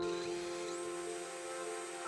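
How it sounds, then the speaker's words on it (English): An electric drill spins a shaft seated in a bearing pressed into a drilled hole, giving a steady, faint whine with a constant pitch throughout, close by and free of speech. "Put it to the drill, and try it."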